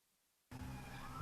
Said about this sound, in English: Apologies for the sirens.